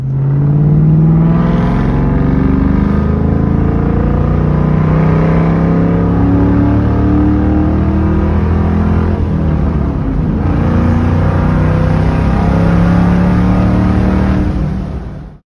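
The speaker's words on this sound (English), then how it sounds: "here's me driving the Mach 1 to work early the next morning" A Ford Mustang Mach 1 driving on an early-morning commute, its engine a steady loud drone heard from inside with rising and falling revs through gear changes, no talking.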